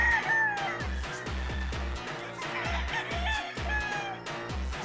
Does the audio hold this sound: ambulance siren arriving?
no